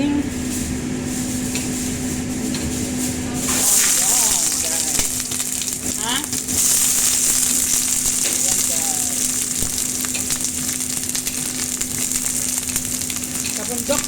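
Onion and garlic sizzling in a hot pan for coconut-milk pumpkin, a steady frying hiss that swells louder partway through, with a constant low hum and bits of talk over it.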